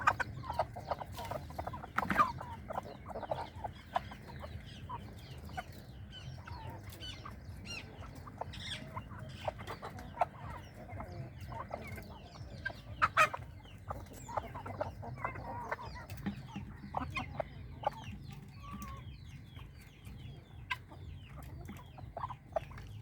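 Guinea fowl and chickens on a farm: continual clucking and scattered sharp calls from a flock, moderately near and fairly quiet, over a low background rumble with no talking.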